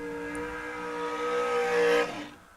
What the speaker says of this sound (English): Burnouts are complete.